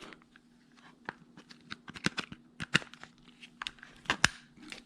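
Pliers crunch and snap into the plastic casing of a simple air freshener, a series of sharp irregular cracks and crackles under a steady low hum, close and fairly loud.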